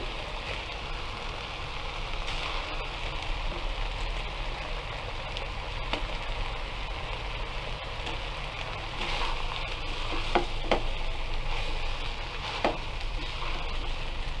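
Shrimp fried rice, seasoned with Maggi fried rice spice, sizzles and crackles in a pan over medium heat, a steady hissing fry with occasional scraping clinks as it is stirred.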